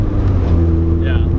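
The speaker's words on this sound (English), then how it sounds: "just going through the gears." A stock 1.6-litre Mazda Miata engine going through the gears, a loud steady droning engine and road roar inside the car, with a brief higher whine near the end and talk faintly mixed in.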